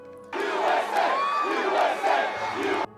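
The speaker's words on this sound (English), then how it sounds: "Outside the White House, crowds gather instantly." A crowd gathered outside the White House cheers and shouts in a loud, continuous roar that starts abruptly and holds steady for a few seconds.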